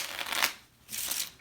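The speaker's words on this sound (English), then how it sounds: "You can let the spectator shuffle the deck." A deck of playing cards is shuffled in two quick riffling bursts, close and crisp, with a brief pause between them during a card magic routine.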